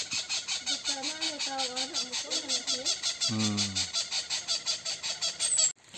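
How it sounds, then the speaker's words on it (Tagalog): A loud turkey-like gobbling call repeats rapidly, close and dominant, with a steady pulsing rhythm over a few seconds before cutting off. "May ibon na ang lakas ng tinig, oh."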